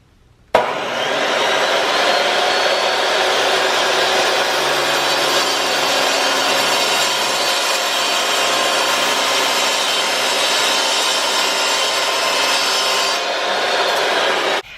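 A Husqvarna 572XP chainsaw cuts through a tree, a loud, sustained, close engine roar with a rasping bite that holds steady for over ten seconds before cutting off abruptly.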